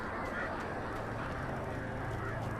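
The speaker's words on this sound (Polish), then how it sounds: "Słyszę chyba ptaków." Distant video game birds calling faintly over a steady, noisy ambient wash at Lover's Peak in Alan Wake, with no talking.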